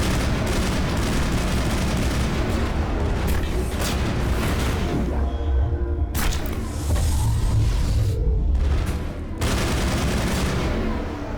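Sustained gunfire erupts in a Mass Effect firefight ordered by Benezia's commandos, dense overlapping shots and booming bursts filling the scene loudly and continuously, with a couple of brief pauses between volleys.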